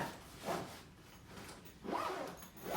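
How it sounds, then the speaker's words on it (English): A zipper drawn shut around an Onli travel packing cube, quiet close-up rasps in two or three short pulls with pauses between. "Whole thing zips up."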